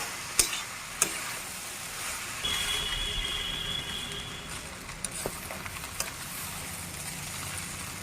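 Fried rice being stirred with garam masala in a hot pan, a soft sizzle under scattered sharp spoon-on-pan clinks and scrapes, with a faint whine partway through.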